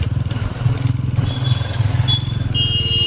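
A motorcycle idles steadily at a petrol pump while being refuelled, its engine running low on fuel, producing a continuous close putter with faint high tones in the background.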